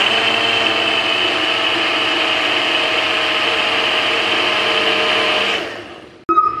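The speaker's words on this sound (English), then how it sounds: "Alright, and then we blend." A blender whirs loudly and steadily, blending a smoothie of blueberry, banana, grapes and juice, then winds down and stops after about five seconds, followed by a brief clatter.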